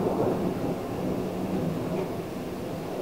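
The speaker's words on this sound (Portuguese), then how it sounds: "porque está chovendo, não sei se dá pra ouvir o barulho" Rain falling outside during a thunderstorm, a steady low rumbling roar that stays even and fairly loud throughout, with no talk.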